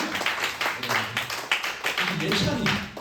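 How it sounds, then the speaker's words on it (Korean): Clapping from a high school youth group at a Sunday church service, welcoming two newcomers to the front: a scattered run of hand claps, fairly close, with voices talking over it. "큰 박수로 맞이하겠습니다"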